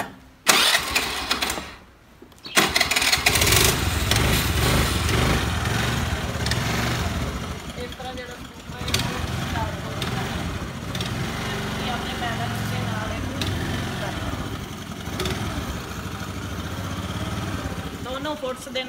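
Scooter engine started with the self-start button and then revved, a sputtering start followed by a steady mid-pitched motor drone with rising revs, while a person talks over it.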